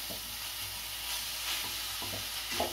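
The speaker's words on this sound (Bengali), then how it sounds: "মিশিয়ে কষিয়ে নিচ্ছি।" Meat marinated with salt and vinegar sizzles steadily in a pan, with soft intermittent stirring strokes under a constant hiss of frying.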